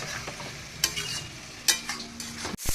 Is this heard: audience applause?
no